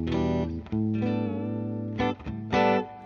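Clean electric guitar notes ring out with a reverb tail through a Hughes & Kettner rig, a sustained chord followed by a few short plucked notes, close and moderately quiet.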